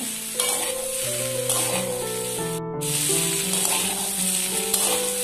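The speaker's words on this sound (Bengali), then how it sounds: "একটা ছোট সাইজের পেঁয়াজ কুচি, চেরা কাঁচা লঙ্কা। এগুলোকে আরো 2 মিনিটের জন্য ভেজে নেব।" Chopped onion and slit green chillies fry in a pan with a steady, bright sizzling hiss that runs throughout, under a soft melodic music track.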